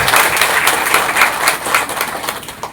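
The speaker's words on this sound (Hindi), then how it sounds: "उसके लिए जोरदार तालियां हो जाना चाहिए।" Loud, dense applause from a crowd at a community gathering in Jharkhand, continuous clapping that swells and dips slightly throughout, with no talk over it.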